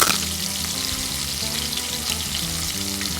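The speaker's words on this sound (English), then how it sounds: "Hear that nice sizzle?" Steady, loud sizzling of shrimp coated in pancake-mix batter frying in hot oil, a continuous crackle and hiss with no talking.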